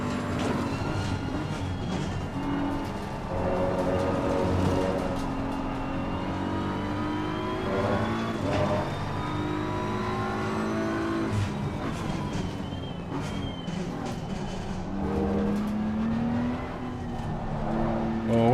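Race car engines in the RaceRoom racing sim, revving and whining continuously with pitch rising and falling through gear changes, steady and loud throughout with no talk.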